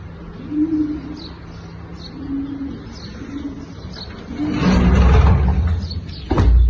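French meat pigeons, young birds about three months old, coo in repeated soft low calls, close by, with rustling and a louder burst of movement near the end.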